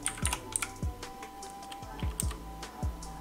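Typing on a computer keyboard while building a label in a program's toolbox: scattered individual keystrokes and a few quick clusters, close and fairly quiet with no talking.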